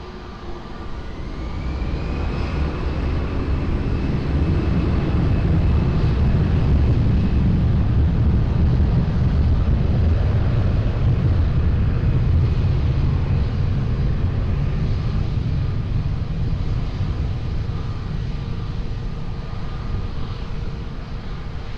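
An airliner taking off from runway 20 at Lisbon Airport, its jet roar swelling to a loud sustained rumble that peaks mid-way and then holds, heard from a distance with no talk.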